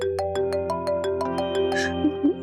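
A mobile phone ringtone plays a quick, bright, repeating melodic pattern of electronic notes, close and clear, for a couple of seconds.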